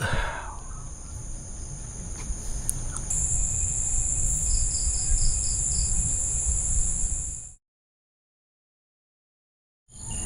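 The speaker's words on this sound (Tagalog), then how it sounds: "Gigising ako sa mga kalaskos na naririnig ko Mga insekto siguro yun." Steady, high-pitched insect chirping fills the quiet night at a solo campsite, continuous and fairly close, then cuts to silence near the end before resuming briefly.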